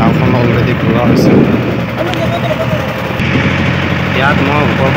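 A river boat engine runs on the Ghagar river as the boat turns, a loud steady drone that continues under talking voices.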